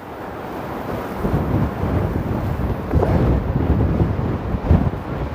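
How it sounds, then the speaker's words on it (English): Strong gusty wind at Toronto's Port Lands buffeting the microphone, a loud low rumbling roar that swells and surges in uneven gusts throughout, with no voices. "I'm immediately getting smacked with wind as soon as I came to this side."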